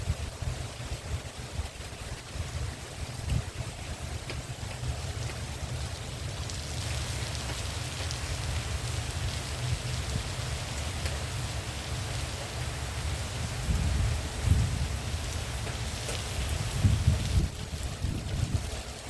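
Rain falls steadily in a soft, constant hiss with low rumbling underneath, growing a little stronger and more uneven toward the end.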